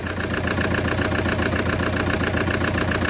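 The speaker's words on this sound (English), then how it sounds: "if you see an engine running like this" A car engine with a cracked piston idles steadily at close range, a continuous low rumble with an even mechanical beat throughout.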